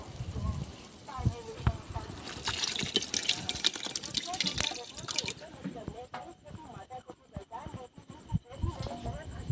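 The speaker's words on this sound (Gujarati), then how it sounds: "હવે એમાં નાખી દઈશું ખાટું દહીં" Sour yogurt is poured into a hot pan of tempered spices, giving a wet, splashing glug followed by bubbling and hissing, with a person speaking over it.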